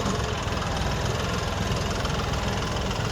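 A 4WD tractor engine runs loud and close in a field during soybean sowing, a steady, dense mechanical drone with no break and no voices.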